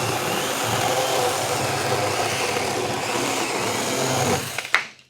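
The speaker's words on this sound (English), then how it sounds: "I'm going to take a cut off of this" A Saker mini electric chainsaw cuts through dry maple wood with a steady, close buzzing whine that holds for several seconds, then cuts off abruptly as the blade clears the piece.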